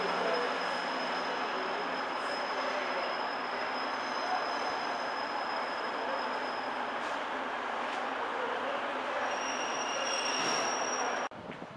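A train rumbles steadily past at close range through Sheffield station, with a continuous roar and high metallic wheel squeals over it, ending abruptly.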